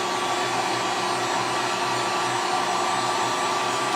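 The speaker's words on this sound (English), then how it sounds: "Make sure you don't hold your heat gun too close" A heat gun blows steadily and continuously, drying paint on a scale model of a starship's secondary hull; a loud, unbroken whooshing airflow with no voices.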